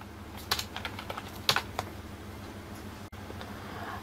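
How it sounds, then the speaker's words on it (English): Keys tapped on a Windows computer keyboard while typing a run command, a short burst of distinct clicks with two sharper strokes standing out, then quieter room tone. "Simply go to run by typing Windows and R at the same time and type dxdeag"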